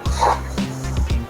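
A small dog in a web game gives a few quick, close barks in a short burst over a low background hum.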